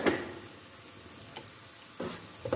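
Onions and salt frying in oil in a pan for a fish masala curry, a soft steady sizzle with a few light stirring scrapes, close by and heard alone.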